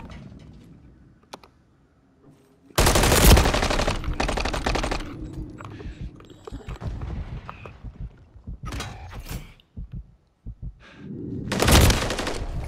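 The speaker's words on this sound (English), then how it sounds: "Sorry, shooting." Gunfire in Call of Duty MW3 ranked Search and Destroy: loud bursts of rapid automatic shots with booming impacts, several separate volleys between quieter gaps of game ambience.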